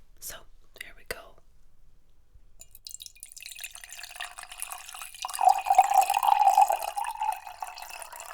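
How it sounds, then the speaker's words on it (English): Hot water is poured over caramels during a cosy Christmas ASMR role play: soft whispering first, then a steady liquid trickle that swells into a louder, close pour in the second half. "And I also have some hot water to melt them."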